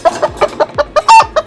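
A cartoon chicken in an animated story clucks in a quick series of about eight loud, close, rhythmic clucks with one longer squawk near the end, alone without talk.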